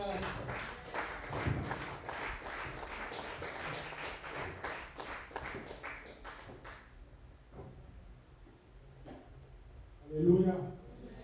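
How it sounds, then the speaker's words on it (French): A congregation at a church service claps in a brisk, rhythmic pattern for about seven seconds. The clapping then thins out and fades, leaving scattered sounds, while voices are heard alongside. "Acclamons très fort pour le Seigneur."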